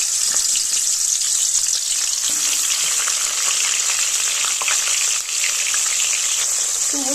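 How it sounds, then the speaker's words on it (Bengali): Fish pieces fry in hot oil in a kadai-style wok, giving a loud, steady sizzle that runs unbroken throughout with faint stirring clicks and no talking. "মাছটা ভাবলাম এখানেই প্রথমে আমি ভাজা করে নিই"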